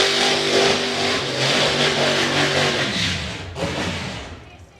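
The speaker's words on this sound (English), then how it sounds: "Well, that was proper burnout from Bobby Wallace this time." A Pro Modified drag racing car at the Euro Finals 2021 does a burnout, a loud harsh roaring engine with tire screech held for several seconds, then easing off and fading near the end.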